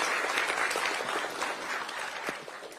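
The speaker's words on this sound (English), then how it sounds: "if you can all stand and just stretch and clap for His Excellency the President" Audience applause for the President at a gathering of Kenyans in Beijing, a brief burst of dense, moderately close clapping that holds steady and begins to thin toward the end.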